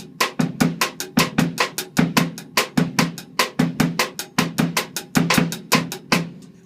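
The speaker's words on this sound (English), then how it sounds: "its rhythm is taken from the partido alto rhythm, which is something more like this." Drum kit playing a Brazilian partido alto rhythm, a busy syncopated groove of closely spaced hits with uneven accents. Continuous and close for the full length, loud, no voices.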